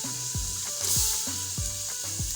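Tomatoes and onions with salt, chili and turmeric fry in a pan for chicken korma, giving a steady close sizzle with rhythmic scraping stirs repeating about every half second.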